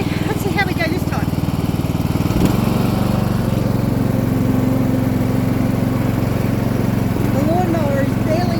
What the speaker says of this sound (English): the lawnmower doesn't like starting when it gets turned on